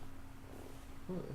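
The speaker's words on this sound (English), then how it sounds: "Oh, that was a cat behind me." A domestic cat makes a brief low purring, murmuring sound close behind someone indoors, ending in a louder short vocal burst; faint background noise runs throughout.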